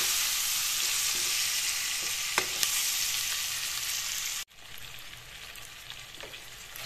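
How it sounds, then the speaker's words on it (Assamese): Fish frying on low heat in a pan, a steady soft sizzle throughout with a few faint pops, dipping briefly partway, no talk. "মাছখিনি মই এনেদৰে কেইমিনিটমান সময় ভাজিলো কম জুইত"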